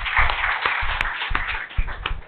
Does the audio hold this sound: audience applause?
yes